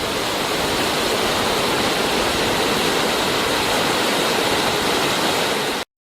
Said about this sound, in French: nous sommes arrivés à la grande cascade au fond du cirque de Saint-Même